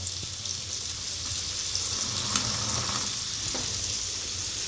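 Chicken pieces grilling in a pan on the stove, a steady close sizzle and crackle of frying that holds without a break, with a faint clink partway through.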